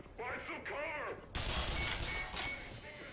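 Video game gunfire bursts out as a dense, loud volley of rapid shots following a moment of excited talking, then continues steadily to the end.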